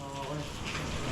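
Rain falling in a steady, dense patter, a constant close wash of drops with no pauses, fairly quiet and brief, with a low hum running underneath.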